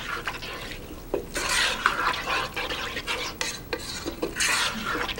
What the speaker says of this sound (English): So next we're going to add a can of diced tomatoes in their juices. Give that a quick stir.